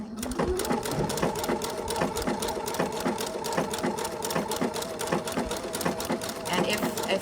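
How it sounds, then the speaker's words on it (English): A home sewing machine running a triple stitch along an embroidery stem, a steady fast needle clatter with an even repeating rhythm, loud and close throughout. "I'm just happen to be doing it with my sewing machine instead."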